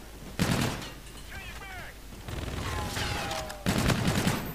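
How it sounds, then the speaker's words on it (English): Video game gunfire in Call of Duty: Infinite Warfare comes as several loud bursts of rapid shots separated by quieter stretches of whines and effects, with voices in the background. "they got shot right in front of me"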